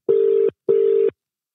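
A call rings out to a producer's phone as two loud, close ringback tones of about half a second each, separated by a brief gap and followed by silence.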